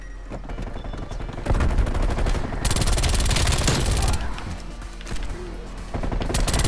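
MAC-10 submachine gun in a video game firing loud, rapid full-auto bursts up close, several sustained volleys separated by brief gaps, with other game noise in the background.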